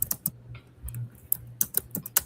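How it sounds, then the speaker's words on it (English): Someone types on a computer keyboard, a close run of sharp, irregular key clicks and taps in short bursts over a faint low hum, with no speech. "I'm just typing."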